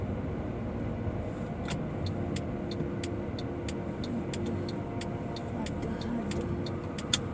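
Interior of a car slowly maneuvering into a parking spot, a low steady engine hum with a regular clicking tick, likely the indicator, running throughout.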